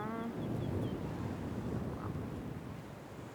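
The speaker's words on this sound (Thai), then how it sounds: "อันนี้คือทะเลนะคะ" Sea waves washing onto a beach near a hotel at sunset, a soft continuous surf wash mixed with wind buffeting the microphone, fairly faint and steady, with a few brief tonal chirps near the start and no talking.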